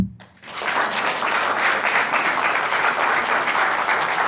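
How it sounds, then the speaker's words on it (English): Audience at Caltech breaking into sustained applause to welcome a speaker, a dense wash of clapping rising quickly after a brief quiet moment and holding steady. "please help me in welcoming him"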